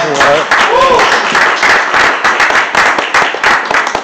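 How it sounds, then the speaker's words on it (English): A church congregation applauding steadily, dense clapping throughout with a voice briefly heard over it at the start. "we'll give the moms another round of applause"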